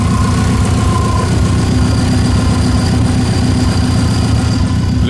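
A car engine idles steadily after an ignition coil conversion, a smooth, even, low rumble that holds unchanged and close by throughout.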